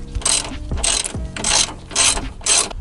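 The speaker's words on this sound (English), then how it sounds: "you're going to grab your 10mm socket" A ratchet fitted with a 10mm socket loosens a bolt on a 3rd-gen Toyota Tacoma, making five quick, close, rhythmic bursts of clicking with brief pauses between the strokes.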